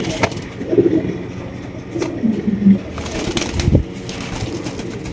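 A pair of fancy pigeons, one black and one indigo, coo in soft low bursts close by, with light rustling and a faint thump among them.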